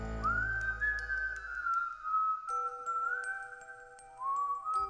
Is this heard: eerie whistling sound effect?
yes